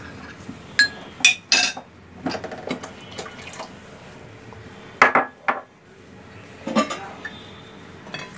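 A spoon clinks and scrapes against a pot while cornflour slurry is stirred quickly into hot tomato sauce, with several sharp metallic taps spaced across a quiet wet background and no speech.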